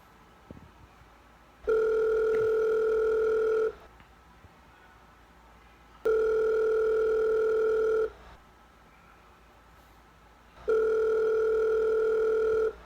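While a call to a phone company is being placed, a telephone ringback tone repeats three times, each a steady two-second electronic tone separated by roughly two-and-a-half-second gaps of near silence.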